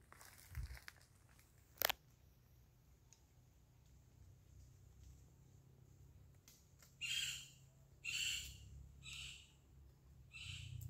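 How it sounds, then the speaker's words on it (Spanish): Several loud, high wild bird calls burst out in the second half on a cocoa farm in Honduras, spaced about a second apart, over a quiet outdoor hum with an earlier sharp knock. "Les voy a dejar aquí un par de minutos de silencio para que escuchen las aves."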